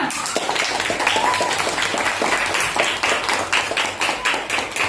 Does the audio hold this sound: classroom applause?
yes